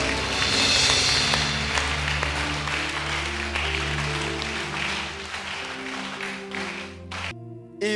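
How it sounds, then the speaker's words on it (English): A church congregation claps along with sustained organ-like music, the rhythmic hand claps partly buried under the loud, droning chords before a brief drop near the end. "Clap your hands for Jesus."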